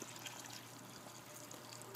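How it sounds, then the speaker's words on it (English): Water poured from a watering can into the top openings of a Vertiflora planter box, a soft, steady, faint hiss of trickling water with no speech. "begin to water in the top into the 3 separate holes, using about half of the watering can"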